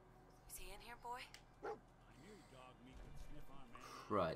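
Dogmeat, the dog companion in the video game Fallout 4, barks and yips a few times in quick bursts at close range, heard under a voice talking throughout.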